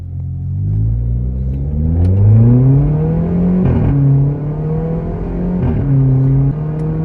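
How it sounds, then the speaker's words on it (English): A modified Volkswagen Polo GT TSI revs repeatedly, its aftermarket exhaust note rising and falling in long sweeps, loud and close, with no talking. "So you can hear the engine exhaust note."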